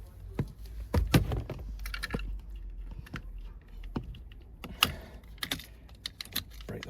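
A tool turns out a 10 mm seat bolt inside a crash-damaged Vauxhall Astra J, with quiet, sporadic clicks and light metallic taps close by, separated by stretches of near silence.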